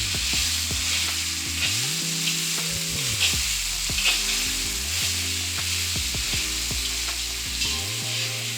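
Salmon pieces seasoned with Cajun seasoning sizzle loudly in a frying pan for fried rice, a constant crackling hiss broken by clanking utensil scrapes and stirring knocks.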